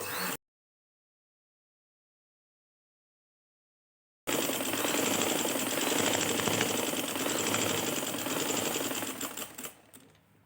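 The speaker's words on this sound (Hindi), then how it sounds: "इस तरह करके इसकी साइड पे भी बिल्कुल किनारे पे सिलाई लगाऊंगी, लेस और कपड़ा जहाँ पे ज्वाइंट हो रहा है उस किनारे पे" A sewing machine stitches along the edge where lace joins the fabric of a trouser hem, a loud, close, steady mechanical chatter that starts after several seconds of silence and slows to a stop at the end.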